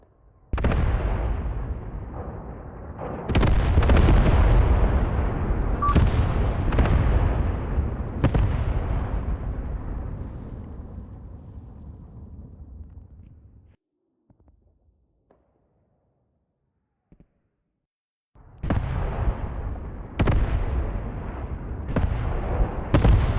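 Artillery bombardment in the WWII game Graviteam: Pivot Point: a series of loud, heavy explosions with long rumbling tails, a quiet lull, then several more sharp blasts in close succession.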